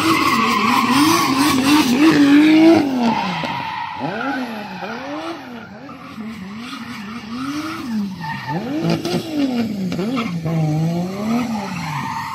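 Nissan S14 drift car with a 2JZ engine at a drift exhibition, revs surging and falling in repeated waves while the tires squeal loudly and continuously through the slides.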